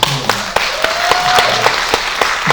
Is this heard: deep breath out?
no